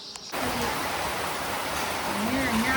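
Rain falling in a dense, steady hiss that starts abruptly after a brief moment and continues evenly throughout, loud and close.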